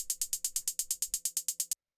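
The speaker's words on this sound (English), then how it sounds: "Next thing we have here is the hi-hat, which sounds like this." A gritty, old-school analog-style hi-hat sample in an electro beat ticks in a steady run of about fourteen crisp, bright hits, then stops dead.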